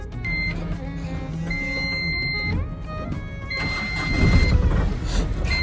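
A truck's diesel engine cranks and catches on a cold morning, then runs with a rough, uneven rattle that builds louder toward the end, heard close by.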